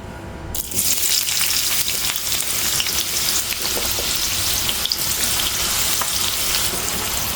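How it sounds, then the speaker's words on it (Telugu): Four onions frying in hot oil hiss with a loud, dense, continuous sizzle that starts abruptly and keeps going without a break, with no voices over it. "ఆనియన్స్ని మనము మంచి గోల్డెన్ బ్రౌన్ అయ్యేదాకా మనం దీంట్లో ఫ్రై చేసుకున్నామండి"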